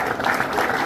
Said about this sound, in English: start off with the golf clap